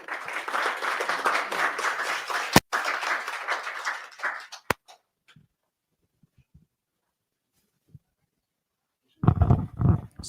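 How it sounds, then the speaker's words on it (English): Meetup audience at a .NET lightning-talks event breaks into brief applause, a few seconds of dense clapping with a couple of sharp knocks, then near silence and a short burst of sound at the end. "I suppose this applause is for you."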